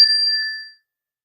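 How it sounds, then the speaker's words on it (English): A Zen energy chime struck once, ringing out with a clear, bright metallic tone that fades quickly, heard close and alone. "it's just a simple like chime. And this is a Zen energy chime that I'm using"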